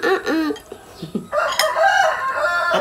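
A chicken clucks and a rooster crows loudly close by, the crow rising into a long sustained call after a few shorter clucks, with no talking.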